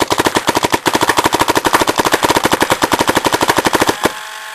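An Invert Mini paintball marker fires on low air in a rapid, steady string of about forty sharp, close pops over four seconds, then stops abruptly.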